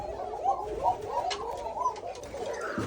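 Pigeons at a pigeon farm give repeated soft, rolling coos close by, several overlapping calls in a steady rhythm, with faint background noise.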